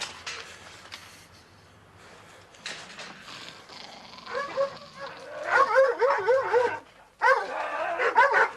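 Dogs barking and whimpering at a house, starting with faint scattered yelps, then growing into repeated loud, strained barks and whines toward the end.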